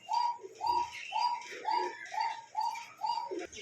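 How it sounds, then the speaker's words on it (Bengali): A pigeon coos over and over in a steady, even rhythm, about seven calls in a few seconds. The calls are close but fairly soft, with no talk over them, at a dealer's shop selling local and foreign pigeons and birds. "ওই যে পকা ডাকতে যাবে দেখছেন?"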